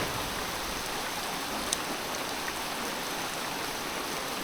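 Steady heavy rain pouring down, a dense unbroken hiss with occasional louder drips close by.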